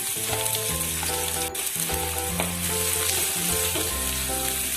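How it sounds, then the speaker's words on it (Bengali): Onions frying in hot oil in a pan for an egg kabiraji, giving a steady, loud, continuous sizzle with background music over it and no talking. "তেলটা গরম হয়ে গেছে এবার পেঁয়াজগুলো ভেজে নেব"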